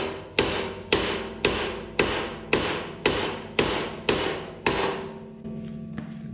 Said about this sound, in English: should I risk whacking it with a mallet?